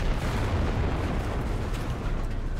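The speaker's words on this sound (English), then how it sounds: "Someone's shooting at me." Gunfire in the WWII shooter game Enlisted: a dense, loud wash of shots and booming blasts rolls on steadily for a few seconds, close and heavy with no talk over it.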